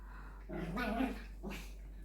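A dog growling while playing with a child indoors, two close, low rumbling growls over a steady background hum.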